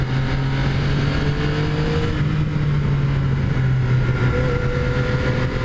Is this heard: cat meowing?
no